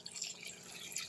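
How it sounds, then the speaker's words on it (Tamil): Water poured from a small metal vessel into a pressure cooker pot while making roadside-style idli sambar, a steady light splashing trickle lasting about a second, close and fairly quiet. "இப்போ இதில் ஒரு அரை சொம்பு தண்ணி ஊற்றுவோம்"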